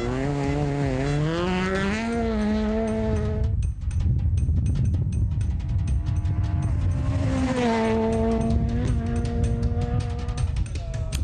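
Porsche 996 rally car competing in the GT+ class at a tarmac rally, its engine note rising and falling through gear changes, loud and close, with a brief pause in the middle before the engine picks up again.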